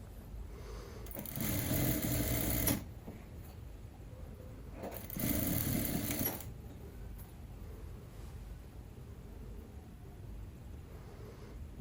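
Sewing machine stitching a polo shirt shoulder seam at a half-inch allowance, running in two loud bursts of about a second and a half each, separated by a few seconds of quiet room noise.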